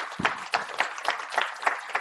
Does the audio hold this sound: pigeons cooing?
no